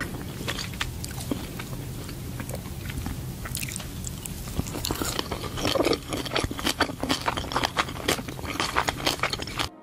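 Crunchy biting and chewing of sushi in a horror-themed video game, repeated wet crunches and scrapes close up, fairly loud with little talk.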